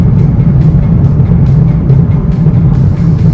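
A 2015 third-generation Mazdaspeed 3 accelerates hard through second and third gear, its engine a steady, loud, dense roar heard from inside the car with no talking.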